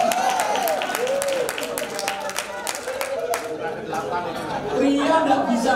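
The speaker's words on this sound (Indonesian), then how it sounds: "Tepuk tangan untuk wanita." Audience at a marriage seminar applauds with scattered claps under a loud layer of crowd chatter and voices, building again toward the end.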